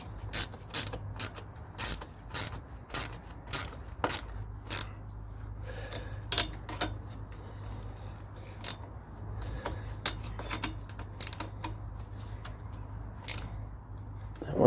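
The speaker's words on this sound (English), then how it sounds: "The next step is to tighten these nuts underneath the bracket, and that will fasten the bracket to the frame of the bike." Size 10 spanner tightening nuts under a crash bar bracket on a Honda Varadero XL1000 motorcycle frame, giving a quick series of close metallic ratcheting clicks and creaks in bursts over a low background hum.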